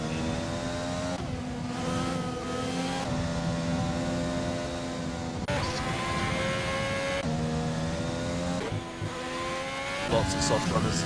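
Onboard racing cars at the Italian Grand Prix, with engines droning and revving loudly and steadily while gears change, heard from inside the car with voices under the noise.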